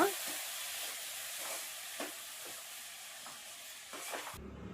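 Rava (semolina) mixture for rava unde being stirred with lukewarm milk in a pan, a soft continuous hiss broken by a few light scraping strokes, close by and fairly quiet, cutting off abruptly at the end.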